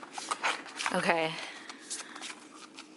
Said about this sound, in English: The only way to shuffle these is literally by doing this, because they're so massive